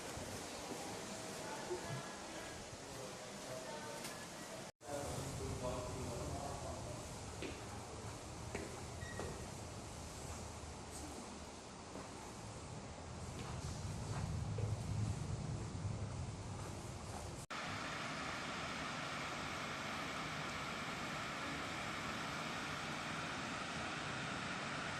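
Heavy rain and strong wind, a dense steady roar of falling water and gusting air that fills the whole span, briefly cut off near the start and then turning into an even hiss for the final stretch.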